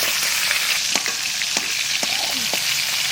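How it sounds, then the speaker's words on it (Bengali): Pieces of live shol fish slide into hot oil and set off a loud, dense frying hiss. A few sharp knocks and pops sound over the close, continuous sizzle, and nobody talks. "এবার মাছগুলো ছেড়ে দেবো। অল্প অল্প করে ভাজবো"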